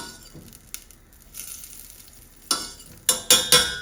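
Butter melting in olive oil in a pan as a bisque is started, a low sizzle underneath with sharp spoon or utensil clinks and scrapes growing louder near the end.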